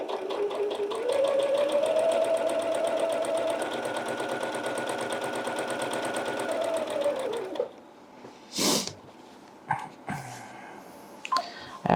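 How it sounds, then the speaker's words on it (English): A domestic sewing machine stitches quilt block pieces one after another in a continuous run, its steady loud whir lasting about eight seconds before stopping, followed by a few short bursts of handling noise. "I'm going to sew all of them without taking one off and finishing one."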